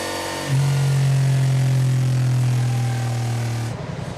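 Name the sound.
Honda DCT motorcycle engine accelerating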